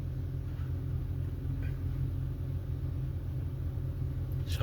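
The 2.4-litre engine of a 2000 Mitsubishi Montero idles about ten minutes after starting, a steady low rumble that holds constant throughout, close by and unbroken.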